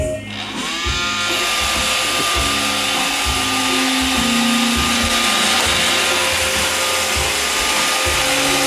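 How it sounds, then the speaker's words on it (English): An iRobot Roomba 530 robot vacuum starts up and drives in a straight run, its loud whirring motor and brush noise rising after a brief startup and continuing steadily with a rhythmic low thumping from the wheels. "So I'll do a straight run to show you guys that the bumper sensors work correctly."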